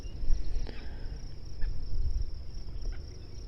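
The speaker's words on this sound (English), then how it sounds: "maybe you can hear some egrets and terns and frogs and other crickets while we wait on this beautiful day" Crickets trill steadily at a high pitch over a soft outdoor background, fairly faint, with a few brief bird-like calls.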